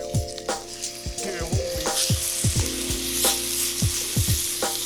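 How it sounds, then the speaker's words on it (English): A steak sizzles steadily in a hot pan, with a dense continuous crackle and bursts of spitting fat throughout, fairly close and alone without any talk. "I'm gonna put this damn steak on."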